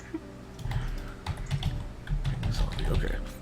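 Computer keyboard typing, a steady patter of close key clicks with irregular rhythm, heard over a low background hum during a casual online call.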